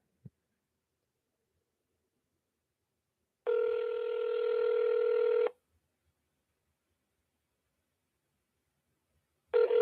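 An outgoing phone call: a click, then a steady two-second dial or ringback tone, long silence, and the tone starting again at the end; no speech.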